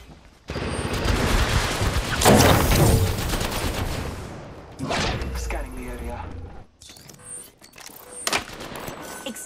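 Gunfire rattles through an Apex Legends battle in dense rapid bursts and sharp single cracks, with mechanical clicks and thuds between volleys and brief pauses where the shooting drops away.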